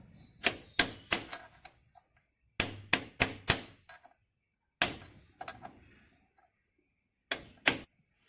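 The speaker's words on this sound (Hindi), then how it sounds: "अभी अंदर वाला जो है, अंदर वाली जो नट है उसको मैं निकालूंगा।" Sharp metallic hammer strikes at the inner check nut on a Maruti Gypsy front axle hub, falling in several quick clusters of two to four ringing blows with short pauses between, loud and close with no talking.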